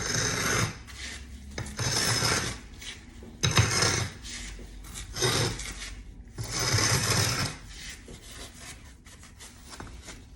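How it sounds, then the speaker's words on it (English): A hand tool scraping excess grout across a tiled joint, several bursts of rough rasping strokes with short pauses between them, close and fairly loud, with no talking. "I'm gonna take the toe and I'm gonna scrape across here, and I'm gonna collect the small bits that fall off"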